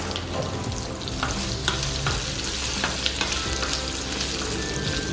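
Square-cut onion frying in hot oil in a pan for restaurant-style chilli chicken: a dense, continuous sizzle with occasional stirring clicks and scrapes up close.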